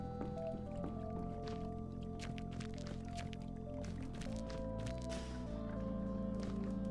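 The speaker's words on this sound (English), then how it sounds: "Shake the can. Slosh of petrol at the bottom." Petrol sloshes and squishes in a shaken can in the video game The Drifter, a soft repeated liquid swirl over a steady low background hum.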